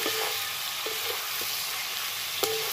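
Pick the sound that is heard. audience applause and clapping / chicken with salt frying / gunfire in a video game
chicken with salt frying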